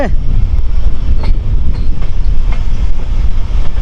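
A train winds along a hill railway toward Silchar, its loud, continuous rumble and rhythmic wheel clatter heard close up from on board.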